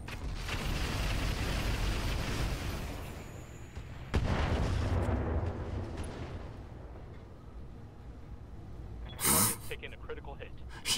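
Battletech mechs fire weapons in the video game Roguetech, including swarm missiles, producing a loud, dense barrage of booms and rumbling blasts with a sharp new volley partway through and a later burst, no talking over it.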